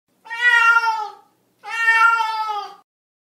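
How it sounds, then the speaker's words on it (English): A cat meows twice, two long clear drawn-out calls separated by a short pause, close and loud with no other sound. "Cat."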